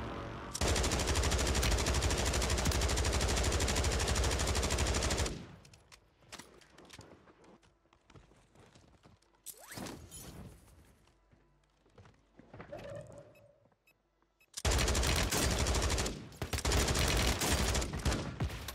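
Bruen Mk9 gunfire in Warzone 3 rattles in two long, loud, sustained automatic bursts, separated by quieter stretches of scattered shots, thuds and movement.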